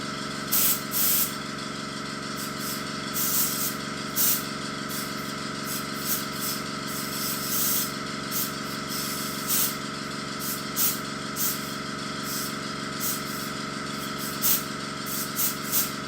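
Spray painting a Connoisseur O gauge J15 model locomotive with an airbrush: a long, continuous close hiss of spraying, broken by short sharp bursts of added spray, with no voices.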